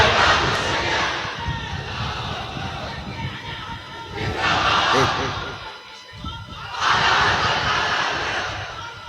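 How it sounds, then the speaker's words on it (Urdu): At a religious sermon, a large crowd chants slogans in three loud surges that swell and fade, with voices shouting together between quieter moments. "بیٹا نعرے کم لگاؤ"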